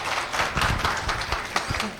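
Audience clapping together in applause for a leader during a team talk, a dense burst of many hands close by that lasts about two seconds.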